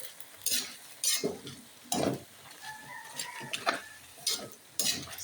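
Vegetables stirred in a frying pan, with repeated bursts of scraping utensil strokes against the pan over a light sizzle, close and fairly loud, no talking.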